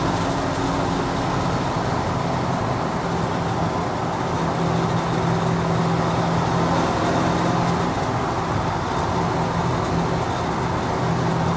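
A 1952 Chevy five-window pickup truck pulls at speed with a loud, continuous engine drone, road roar and wind noise, heard from inside the cab without a break.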